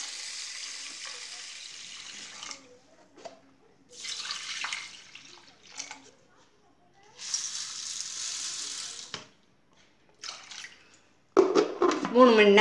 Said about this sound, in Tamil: இதில் வந்து வாட்டரை ஊற்றி ஊற வச்சுருவோம்.